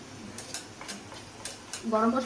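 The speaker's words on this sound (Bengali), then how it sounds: "আর গরম মশলা দিয়ে একটু নাড়িয়ে নিচ্ছি।" Garam masala being stirred into a pan of banana stem and egg, with a few scraping strokes of a utensil against the pan over a soft sizzle, close by, followed by a brief voice at the end.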